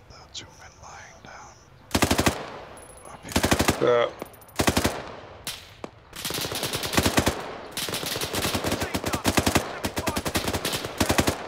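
Rapid bursts of automatic machine-gun fire crackle loud and close in a military combat video game on the Altis map, with sustained volleys over the second half and faint voices in the background.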